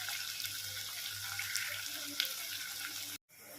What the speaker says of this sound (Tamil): இப்போ வெங்காயம் நல்லா பொரிஞ்சிடுச்சு.